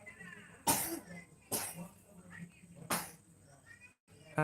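Three sharp, loud coughs ring out indoors during a home live stream, spaced about a second apart, with soft background murmuring and household noise between them.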